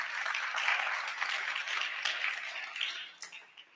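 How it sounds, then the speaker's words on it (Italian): Audience applause at a public talk in Modena, a steady wash of many hands clapping at moderate distance that thins and tapers off toward the end. "Facciamo un applauso."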